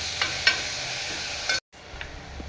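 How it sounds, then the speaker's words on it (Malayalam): Crushed small shallots sauté in a hot pan with a constant sizzle, punctuated by a few scraping stirs and a short break in sound. "ഇനി ആ കുഞ്ഞുള്ളി നമ്മളെല്ലാം കൂടി ചതച്ച് വെച്ചേക്കുന്നതെല്ലാം കൂടി ഇട്ട് നന്നായിട്ടൊന്ന് വഴറ്റണം."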